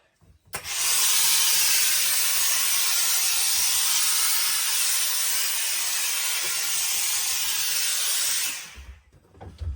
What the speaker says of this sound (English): then just take the tension out of the hat, if you like, and then we introduce the steam